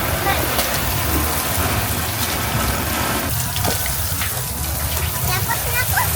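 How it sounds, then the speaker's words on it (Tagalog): Outdoor beach shower with water running hard, a loud steady gush and splatter close by, while people talk over it. "Okay, shower muna."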